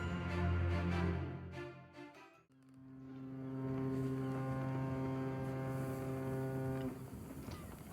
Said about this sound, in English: the boat noise was very loud